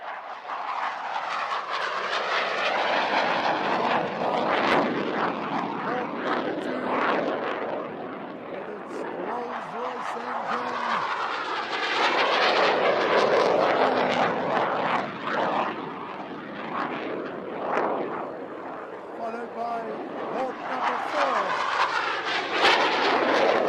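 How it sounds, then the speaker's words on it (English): Four Hawk jets flying in formation with a Boeing 737 at an air show make a loud, broad roar that swells and fades as the aircraft pass, steady and continuous with no talk over it. "4 Hawks in a formation with a Boeing 737."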